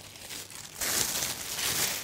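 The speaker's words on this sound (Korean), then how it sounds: "비닐을 깔아주는 게 가장 좋아요" Thin plastic sheet crinkling and rustling as it is spread inside a container used as a mould for a sushi cake, growing louder and steady partway through, close by with no talk.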